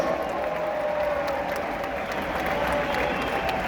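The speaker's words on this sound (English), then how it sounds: "a nice round of applause for our sword fighters, Sir David and Sir Carlos." An audience at a live outdoor jousting show applauds sword fighters with sustained dense clapping and some cheering, loud and continuous throughout, with a faint tonal hum underneath.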